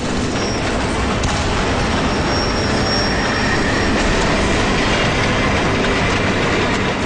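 Subway train in the video game Crysis 3, a loud, continuous rumble of a rail car rushing through a tunnel, with rattling wheels and a faint high squeal running steadily throughout.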